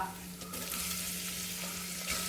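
Chopped onion sautés in a pan for a macaroni masala, a soft, even sizzle with faint stirring scrapes, fairly quiet and continuous.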